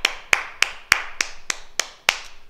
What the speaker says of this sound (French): Et on s'applaudit très fort